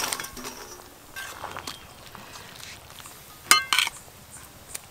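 Fried snakehead fish being dropped into a pot of boiling cauliflower curry, with scattered clinks of a spoon against the pot, a couple of sharper metallic knocks and a faint background bubbling.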